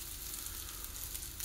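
Water heats in a kettle or pot for loose leaf tea, just starting to boil, a faint, steady hiss and soft seething with tiny crackles, heard alone.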